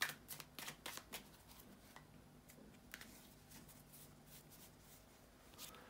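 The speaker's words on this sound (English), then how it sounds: "bear with me a second, guys, to shuffle the tarot cards" Tarot cards being shuffled close by and quietly: a quick run of soft riffling flicks at first, then a lighter, steady rustle as the shuffling continues, with no talking.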